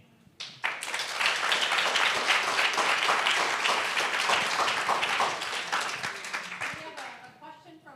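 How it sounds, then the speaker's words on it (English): An audience breaks into loud, sustained clapping and cheering after a student presentation at an innovation showcase, building quickly and holding for several seconds before tapering off, with voices mixed into the crowd noise. "let's give them one more loud round of applause"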